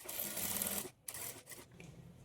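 A sewing machine stitches a blouse with a quarter-inch margin, its rapid mechanical whir running in short bursts broken by brief pauses, close and fairly quiet.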